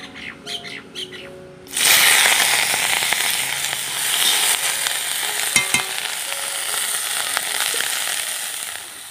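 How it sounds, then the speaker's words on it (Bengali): Onion slices hit hot oil in a pan and burst into loud, continuous sizzling and crackling, with faint clinks of stirring, after a brief quieter moment of kitchen noise. "এদিকে পেঁয়াজের কালি ভাজা করছি"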